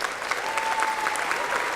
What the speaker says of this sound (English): give themselves a round of applause